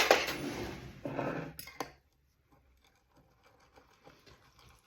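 A spoon stirs a protein powder mixture in a cup or bowl, clinking and scraping rapidly against the sides for about two seconds, then stopping, leaving near silence with faint small knocks.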